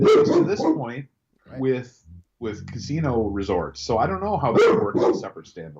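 A pet dog barks briefly in the background of a home podcast recording, a few yips partly buried under two people talking about Las Vegas casino business.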